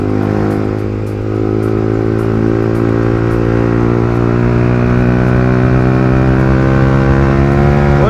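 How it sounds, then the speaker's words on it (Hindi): A Yamaha R15 motorcycle with a loud aftermarket exhaust runs close by on a road, its engine droning and revving continuously and loudly with a rough, throaty tone. "बाकी खींचते हैं बाइक को।"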